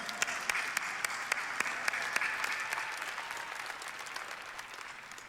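Crowd applause at the Mr Olympia 2018 Saturday finals after the champions are introduced, a steady wash of clapping from a large hall with sharp individual claps standing out, gradually tapering off.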